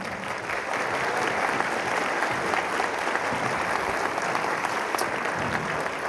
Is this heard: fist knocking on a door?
no